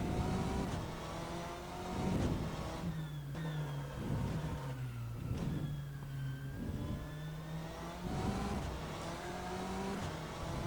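BMW M8 race car engine in the rFactor 2 racing game, revving up and down through gear changes with rising and falling whines, fairly loud and continuous without speech.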